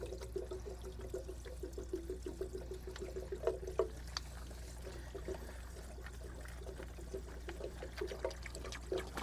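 Water trickles and pours steadily from the drain plug of a pool booster pump, a faint, continuous outdoor dribble over a low equipment hum.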